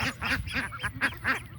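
Several domestic ducks on a homestead quack in a steady series of loud, close calls, each burst distinct and repeated about every quarter second.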